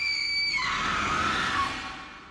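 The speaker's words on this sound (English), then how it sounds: "It's here that the world was introduced to the famous screams of Fay Wray." Fay Wray's famous scream from the film King Kong, a shrill, sustained woman's shriek that swoops down in pitch and fades at the end.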